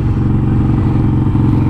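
A Harley motorcycle engine revs hard and loud during a wheelie, a deep, continuous rumbling roar held close and steady throughout.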